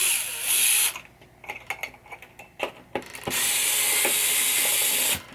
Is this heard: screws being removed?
yes